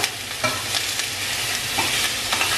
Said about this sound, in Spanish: Lo único que queremos es que frite un ratito, no queremos que esté dorado ni nada